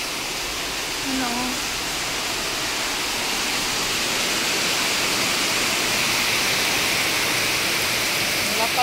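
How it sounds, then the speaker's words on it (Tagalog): Heavy rain falling, a loud, dense and steady roar of rainfall that continues without a break. "Lakas ng ulan."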